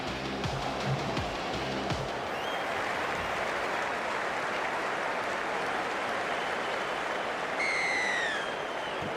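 A stadium crowd cheers in the Rugby League 26 video game at an England versus Scotland Six Nations match, a steady, dense roar like applause that holds evenly throughout, with a brief rising whistle near the end.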